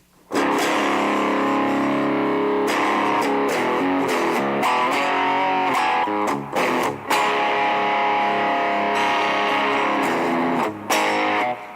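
A heavily distorted electric guitar plays loud sustained chords and riffs with boosted gain, thick and saturated, with brief pauses between phrases.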